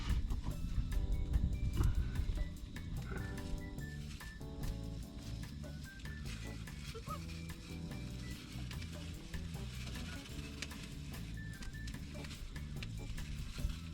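Bacon sizzles and crackles steadily in a new non-stick pan, with scraping and stirring noises over a busy mix of background music-like tones, fairly quiet overall.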